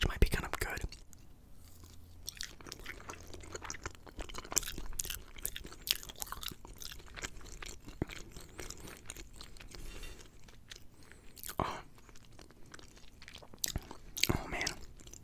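Crispy roasted potatoes, cooked until nearly like French fries, crunched and chewed up close at a Thanksgiving meal, soft intermittent bites and mouth sounds with quiet whispered talk between them.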